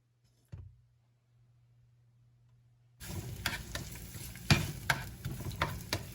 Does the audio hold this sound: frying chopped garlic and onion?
yes